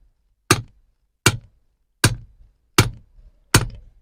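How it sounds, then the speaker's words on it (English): Five sharp metallic strikes of a hammer driving an earth rod into the ground, at a steady, unhurried pace, each a hard ringing thunk with a short decay, close and loud, with no talking. "I simply use my hammer to get past it."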